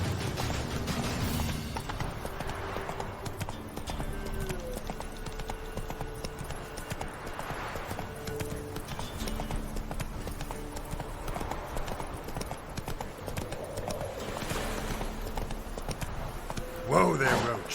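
Hooves of Roach, a horse in The Witcher 3 video game, clip-clop in a steady fast rhythm throughout over game ambience, with a voice speaking at times.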